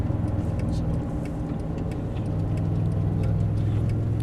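Mercedes-Benz SLS AMG sports car driving on a race track in Las Vegas, a steady droning engine rumble with ticking noises on top, holding at an even level throughout.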